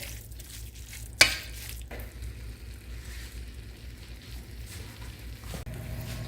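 Beef filling for shepherd's pie stirred in a pan with a splash of liquid, a soft low simmering sizzle with one sharp clack of a utensil early on and faint scraping, quiet and without talk.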